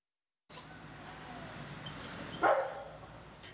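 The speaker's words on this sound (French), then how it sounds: "Ce qui semble être un jeu entre un chien et son maître est dans ce cas précis un exercice entre deux équipiers de l'unité K9 de la MRA" Border collie in police K9 drug-detection training, giving a single short bark or yelp partway through, heard alone over steady outdoor background noise.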